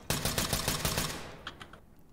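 Rapid video-game gunfire rattles off in a fast, loud automatic burst, then tapers into a few fainter scattered shots as it fades.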